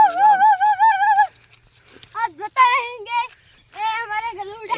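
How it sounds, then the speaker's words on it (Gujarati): Farm puppies whimpering up close in several bursts of high, wavering whines, with short quiet gaps between them. "એ અમારા ગલુડા હે।"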